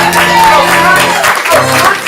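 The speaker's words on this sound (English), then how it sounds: "whenever I call the captains on the field, you have to cheer wildly" An improv comedy show audience cheers wildly for the team captains coming onto the field, a loud, dense burst of whoops and applause heard up close throughout.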